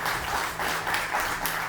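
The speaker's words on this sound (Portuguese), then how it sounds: "dá uma forte salva de palmas para o Senhor" A church congregation claps together in a brief burst of applause, moderately loud and fairly even, with a low background hum underneath.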